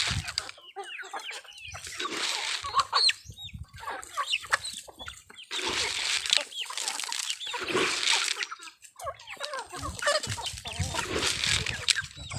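Full-grown egg-laying chickens clucking and squawking in a flock, busy overlapping calls coming in waves, close and lively, with no talking.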